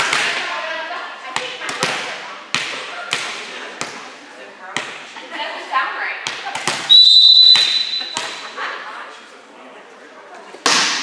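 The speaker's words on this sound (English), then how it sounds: "Referee tests the whistle." At a volleyball game, a referee gives a short, shrill whistle test. It sounds among repeated ball bounces, thuds and echoing gym noise.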